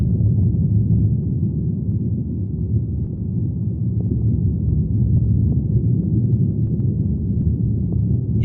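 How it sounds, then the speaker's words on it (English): Thunderstorm over the Pando Grove aspen colony, picked up by hydrophones attached to the tree roots underground: a continuous muffled low rumble with dull thuds, dark and bassy with no high frequencies. "This is the sound of a thunderstorm over the Pando Grove, recorded using hydrophones attached to the roots of this giant organism."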